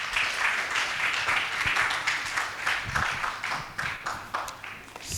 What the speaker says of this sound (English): If we can clap hands for them,